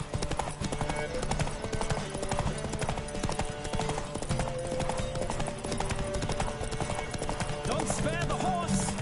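A horse gallops in a race in the video game The Witcher 3: Wild Hunt, its steady clip-clop hoofbeats running throughout beneath game music and voices.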